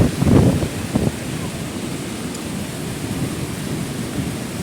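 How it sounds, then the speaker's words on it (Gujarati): Floodwater roars in a swollen river near the Rupavati dam after very heavy rain, a continuous loud rushing with a heavier surge at the start and no speech. "રૂપાવટી ડેમ નદીનું પાણી હાવ ઘૂંઘવાટા મારે"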